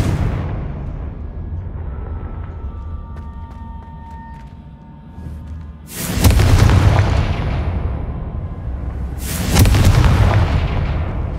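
Confringo fire spell explosions in the Hogwarts Legacy video game during Percival Rackham's Trial, two loud booming blasts a few seconds apart, each trailing off into a rumbling decay over low background ambience.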